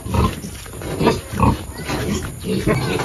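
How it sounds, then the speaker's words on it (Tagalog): A litter of nine piglets at feed, eating softened food mixed with broth, giving a close, continuous mix of grunts, snuffling and wet chewing noises that swell and fade in short bursts. "Yan po yung kain ng mga biik natin ngayon."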